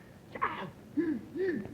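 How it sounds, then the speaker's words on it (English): A puppet character on a 1953 television puppet show lets out a few strained, voiced gasping breaths in short bursts, close and fairly quiet. "Stop gasping and speak up."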